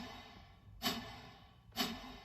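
A hi-hat running with a bass drum in a multitrack recording lands two crisp, combined hits about a second apart over a faint background hiss.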